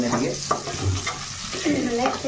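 Onions fry and get stirred in a pan for an Odisha-style prawn curry, with a close sizzle broken by several scraping stirs and clinks of a utensil against the pan, no talking.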